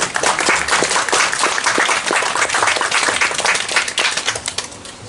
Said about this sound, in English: I think that is more than worthy of a round of applause